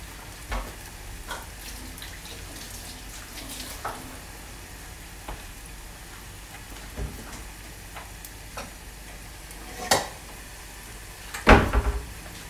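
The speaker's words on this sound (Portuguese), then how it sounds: "vocês vão vendo o falafel fritar" Falafel sizzles in hot oil with a soft, constant frying hiss, broken by scattered clicks and clatter and a couple of sharper knocks near the end.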